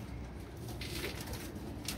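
A teddy pigeon coos softly at close range, a low, steady murmur that runs through the whole moment with no other voices.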